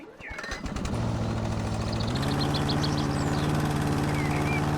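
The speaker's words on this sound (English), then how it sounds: "I'm just gonna mow everything. The yard nice and tidy." A lawn mower cuts the yard in the video game House Flipper, starting up into a steady, droning engine hum that holds constant while faint bird chirps sound in the background.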